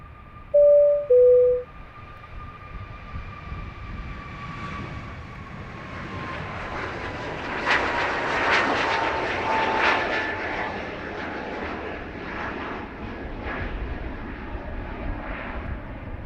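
A Ryanair jet passes right overhead at Dublin Airport, its engine roar swelling to a loud peak and then slowly fading into a lingering rumble. Two short electronic beeps sound near the start, and there is no speech.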